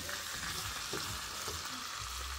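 Onion, chile and chicken frying in a pan, a steady loud sizzle with occasional stirring scrapes throughout, no talk over it.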